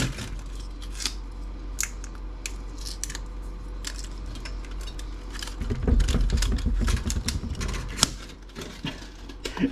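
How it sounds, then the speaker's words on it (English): Brittle plastic casing from a 1997 Dell laptop snapping and cracking while being scrapped: a quiet run of sharp clicks and small snaps, close by, with a denser crunching stretch partway through. "Every time I try to pull a piece of it off, it's just breaking."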